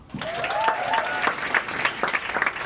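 An audience at a television festival panel claps for a network guest being introduced, a burst of steady crowd applause with a brief vocal cheer near the start, fairly loud and sustained.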